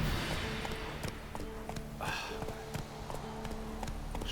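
Horse hooves gallop in a steady rhythmic clip-clop in the video game The Witcher 3, with even repeating beats over faint background ambience and a brief whoosh midway.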